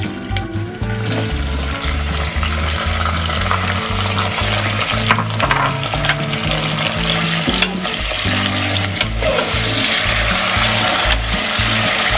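Chopped onions crackle and sizzle steadily in a hot pan with spices for nihari, a loud continuous hiss with occasional stirring clatter, no voices.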